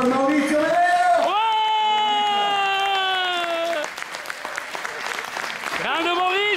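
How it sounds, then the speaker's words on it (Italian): Applause and cheering from a theatre audience at an orchestra music event, continuous clapping under a loud voice calling out over a microphone, with whoops rising near the end. "Un grande applauso per Maurizio Medeo!"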